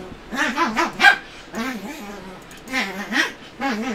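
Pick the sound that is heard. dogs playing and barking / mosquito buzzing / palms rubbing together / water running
dogs playing and barking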